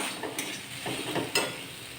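Onion and tomato cooking down with turmeric, salt and chilli powder for aloo matar curry, a quiet steady sizzle with a few light clinks and scrapes of a spoon against the pan.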